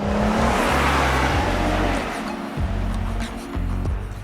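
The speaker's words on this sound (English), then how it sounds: "I can still hear a bit of resonance from the tires on the broken concrete" Steady low road rumble and tire roar from inside a moving 2026 Hyundai Palisade Calligraphy AWD on broken concrete, with a hollow resonant tire drone that rises and dips slightly over a few seconds.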